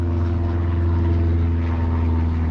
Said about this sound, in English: Airplane flying overhead.